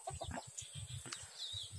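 A free-range village chicken clucks in quick, close bursts, a rapid series of short throaty notes with brief pauses between.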